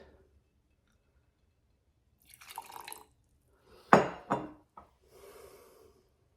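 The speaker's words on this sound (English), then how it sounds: "I'm going to add half as much of water to start" Water poured into a sourdough starter jar in a kitchen, a few short splashing and dripping bursts with quiet gaps between, close and clear with no talk.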